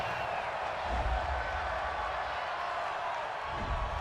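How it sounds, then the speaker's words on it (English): Stadium crowd at an NFL game between the New York Giants and Seattle Seahawks reacting to a roughing the passer penalty, a steady broad roar of many voices, loud and sustained with slight swells. "this crowd does not like that call"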